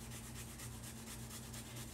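Fresh ginger is grated in quick, even rasping strokes, a rapid scraping rhythm repeated over two seconds, faint and close, with no talking.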